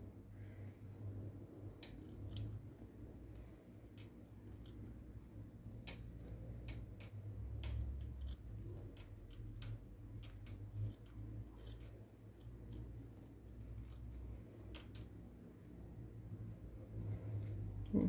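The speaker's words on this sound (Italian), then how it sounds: "Quindi prendiamo le nostre forbici e andiamo a fare questo lavoro. Soltanto l'imbottitura dobbiamo tagliare." Scissors snipping through quilt padding for a pot holder, a long run of quiet, irregular close-up clicks and snips over a low steady hum.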